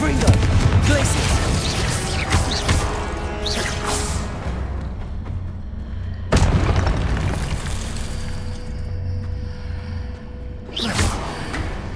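Spell impacts and explosions in the video game Hogwarts Legacy, deep booming blasts and crashes with whooshing casts over a continuous rumbling game backdrop, two sharp hits standing out, with spoken incantations.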